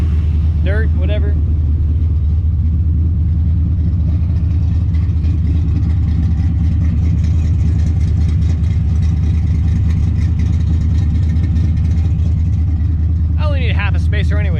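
A race car engine, known as Double Trouble, idles loudly and steadily through a heat cycle, with a deep continuous rumble and only slight variation throughout.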